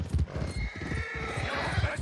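A horse whinnies and its hooves clop along a trail in the video game Red Dead Redemption 2, loud and close, with steady hoofbeats under the neigh.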